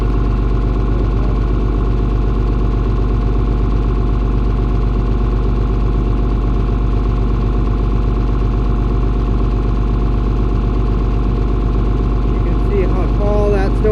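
A snowblower engine idles steadily and loud for the whole stretch, a constant low mechanical drone with a brief rustle near the end.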